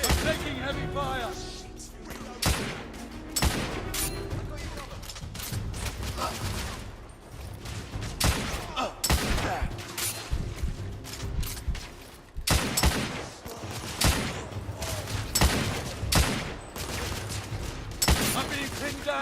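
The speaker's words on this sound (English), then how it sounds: "I'm taking heavy fire!" Dense bursts of heavy gunfire crackle through a firefight in The Order: 1886, with repeated loud volleys and impacts stacked over a busy combat mix, while voices shout beneath the shooting.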